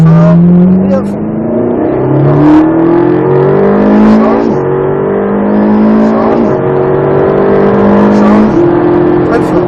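A Ferrari 458 Italia is driven at full throttle during sprint racing on the Croix en Ternois circuit. Its engine howls loud and close, climbing steadily in pitch through each gear, with quick shift breaks before it winds up again.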